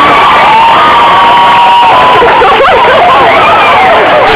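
A crowd yelling and cheering at close range, a loud, dense wall of shouts and whoops that includes high-pitched children's voices, continuous and saturated for the whole stretch.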